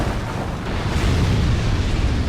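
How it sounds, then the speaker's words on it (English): An explosion trap goes off in Dark Souls 2, a loud, deep, rumbling blast that rolls on heavily for a couple of seconds with no speech over it. "Also explosions, apparently."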